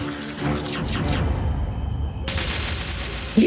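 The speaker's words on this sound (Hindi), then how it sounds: "इतना कहकर मार्था ने तुरंत गोली चला दी।" Dramatic gunfire crackles amid swelling music and effects, with a sudden loud burst near the end.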